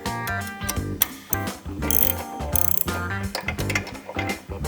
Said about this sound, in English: And then with your T45 and your 9/16 wrench, you want to go ahead and remove